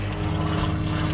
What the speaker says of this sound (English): That was the plane we were in.